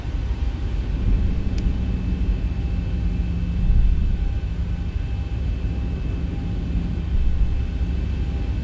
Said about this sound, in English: We are going to start taxiing